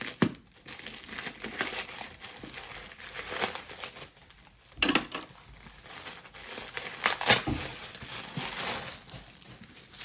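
Paper and packing material crinkle and rustle as a taped parcel holding a bag is cut and opened, with louder tearing bursts near the middle and end, fairly close and steady with no talking.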